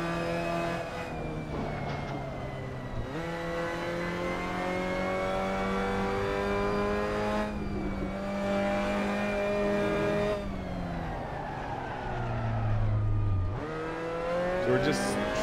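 Mazda MX-5 Cup race car engine in Assetto Corsa at Paul Ricard, loud and close, repeatedly climbing through the revs with sharp drops at each gearshift, then easing off and building again.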